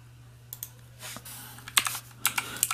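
Typing on a computer keyboard, a handful of soft, uneven clicks and taps up close against a quiet background hum.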